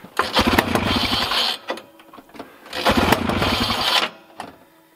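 A snowmobile two-stroke engine, one of a Blizzard 797, TNT 640 or Oly 277, runs rich after a carburetor fix, revving in two loud raspy bursts with a quieter idle gap between them.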